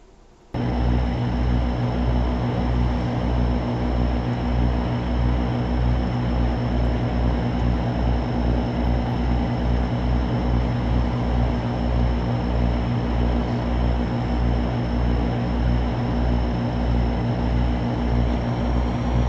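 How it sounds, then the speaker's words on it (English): Twin turboprop engines of an Evektor EV-55 in X-Plane 11 spool up suddenly and then hold a loud, steady droning hum with a rhythmic propeller beat, continuous and close, with no voices. "It's just a really fine little airplane."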